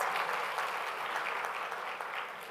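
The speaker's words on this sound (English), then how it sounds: "they deserve a bigger round of applause" Steady audience applause for a choir at a Model UN opening ceremony, a dense, even wash of clapping that fades slightly toward the end.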